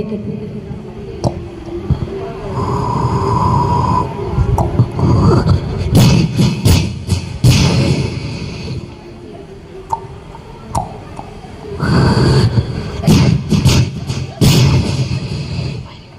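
A voice mimics fireworks with sharp popping bursts and crackles, in two loud volleys separated by a brief lull, over a noisy crowd.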